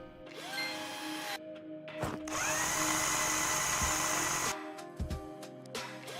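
In the House Builder video game, a power tool drives screws with a loud, close, sustained whirring burst that stops abruptly and is followed by short mechanical clicks and a few softer whirs.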